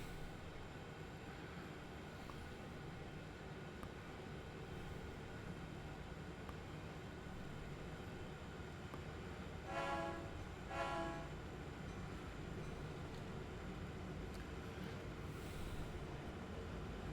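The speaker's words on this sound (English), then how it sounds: "A lot of train action going on." Trains roll through Horseshoe Curve in the Train Sim World 5 video game, a faint steady rail rumble with a distant horn sounding twice midway.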